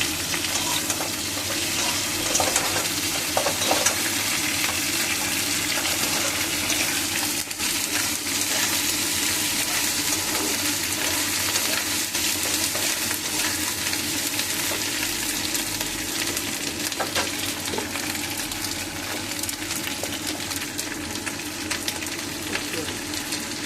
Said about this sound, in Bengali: ফুলকপিগুলো লাল লাল হয়ে গেছে, আদা দিয়ে দিলাম। আদাটা দিয়ে একটু কষে দিলাম।